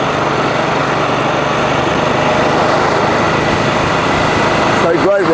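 A 1995 Aprilia Moto 6.5 motorcycle on the road, its single-cylinder engine a steady, loud, close drone throughout, with wind noise and no gear-change break.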